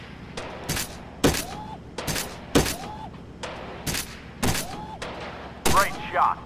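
Pistol shots in the Gun Club VR shooting game, about seven sharp cracks spaced roughly a second apart, each followed by a brief rising mechanical whir, with a voice talking faintly between them.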